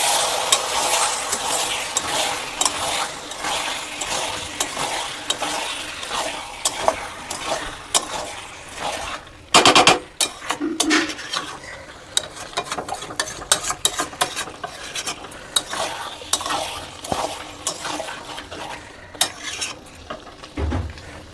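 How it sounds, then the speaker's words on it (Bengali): Chicken curry fries in a pan, with repeated scraping and stirring strokes and clinks of a utensil against the pot over a steady sizzle, a louder clatter near the middle as the lid is handled; no talk. "একটু নেড়ে দেব।"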